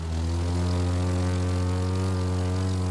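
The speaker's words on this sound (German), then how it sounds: "und nicht mit diesem komischen langsamen Flugzeug" A slow propeller airplane drones steadily in The Crew 2 video game, a loud, constant low engine hum with strong harmonics that holds unchanged for the whole stretch, with no voices.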